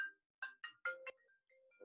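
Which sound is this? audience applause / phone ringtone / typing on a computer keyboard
phone ringtone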